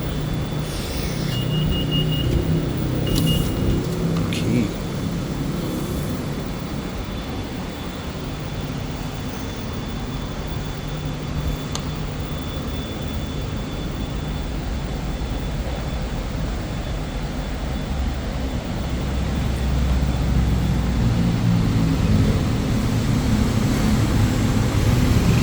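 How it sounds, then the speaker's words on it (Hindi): A Kuala Lumpur metro train makes a steady, loud, droning rumble from inside the moving car, swelling slightly toward the end, with no talking. "मेट्रो की आवाज़ ही बहुत ज़्यादा आ रही थी भाई।"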